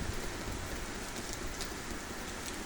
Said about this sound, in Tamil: வெறிச்சிருக்கேன்னு நினச்சா திரும்ப பிடிச்சிருச்சு மழை